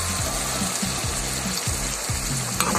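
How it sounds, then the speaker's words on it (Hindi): Potatoes fry in hot oil for a cauliflower salan, a continuous close sizzle with a low repeating hum and a brief knock near the end, no voices. "इसमें मैं आलू ऐड करूँगी। इनको भी फ्राई कर लें।"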